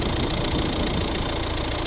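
A steady diesel idle from a 2013 Volvo V60 1.6 D2, a low even rumble with a mechanical knock running through it, continuous and fairly close, with no voices.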